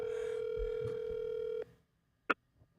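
Phone call placed during a live show: a single long, steady ringback tone of about a second and a half cuts off abruptly, followed by quiet and a sharp click.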